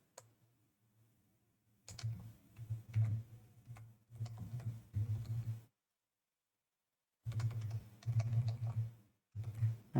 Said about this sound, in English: I have no idea what I just typed in.